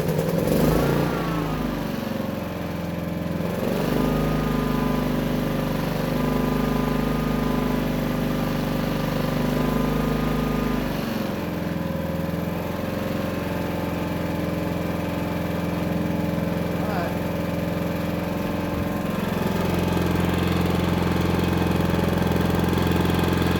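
A Pulsar 4500 watt portable generator engine starts and runs steadily, a loud close mechanical drone with a brief speed change early on and faint variations later, no talk over it.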